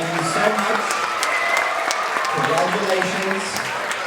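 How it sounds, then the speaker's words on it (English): An audience applauds first- and second-grade award students at a school ceremony, a sustained round of clapping at moderate loudness with faint voices mixed in. "give them one more round of applause"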